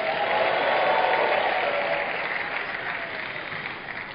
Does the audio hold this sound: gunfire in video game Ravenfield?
no